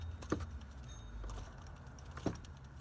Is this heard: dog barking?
no